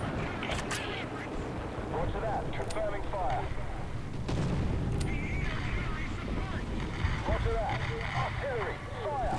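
Artillery fire in War Thunder, a tank combat video game: several sharp, booming blasts land over a constant engine rumble and battle noise, with voices talking throughout.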